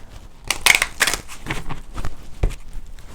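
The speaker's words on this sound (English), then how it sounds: "Give it one more shuffle." A deck of tarot cards is shuffled in a quick, close handful of crisp riffling and slapping bursts, no voices.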